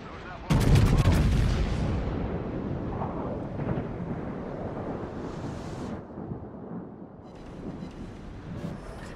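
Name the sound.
warship gun salvo in the video game World of Warships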